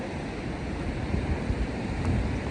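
Steady broadband wash of sea waves on a snowy European coast near a forest, continuous and fairly loud with wind buffeting the microphone, no talking.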